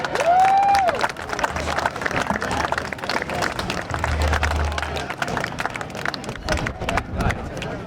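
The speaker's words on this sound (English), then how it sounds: "a nice round of applause for Bruce Aldrich" Sustained applause and crowd noise from an audience, dense and steady throughout, with a brief tonal whistle-like sound near the start.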